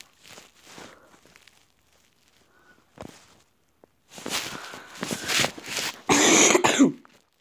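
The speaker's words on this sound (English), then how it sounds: "Sorry about the cough." Several harsh, close coughs come in bursts, growing louder toward the end, with quieter shuffling sounds between them.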